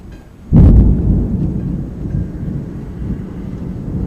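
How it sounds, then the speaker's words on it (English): A close lightning strike during a thunderstorm produces a sudden, loud thunder crack that rolls into a long, steady rumble lasting several seconds, with no voices. "Just had a slight feel it was going to have a close strike, and it did."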